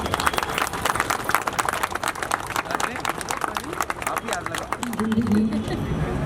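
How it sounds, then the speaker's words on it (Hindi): Guests at a retirement party clap steadily and densely around a cake cutting, with crowd chatter and voices mixed into the continuous applause. "तालियां बजती रहनी चाहिए।"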